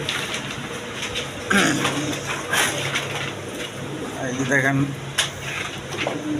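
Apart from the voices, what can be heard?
fancy pigeons cooing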